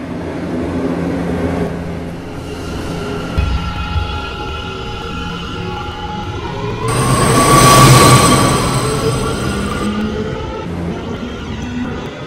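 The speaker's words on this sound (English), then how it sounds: "Welcome aboard the new R211 subway car." An R211 subway car in a video game runs along the track with a steady metallic rumble, swelling louder midway with screeching wheel squeal before easing back to a constant roll.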